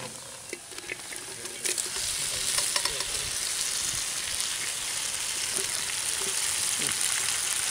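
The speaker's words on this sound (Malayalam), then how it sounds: "എന്താ നമ്മൾ വേവിച്ച് വെച്ചേക്കണ പോർക്ക് ഇതിലേക്ക് ഇട്ട് കൊടുക്കണം" Cooked pork hitting a hot pan and frying, a soft start that swells into a steady, fairly quiet sizzle with light stirring scrapes.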